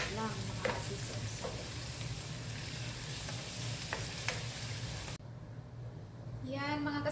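Cucumbers sauté in butter with ginisa mix, a steady close sizzle with periodic spatula scrapes and taps, breaking briefly near the end before a short burst of voice.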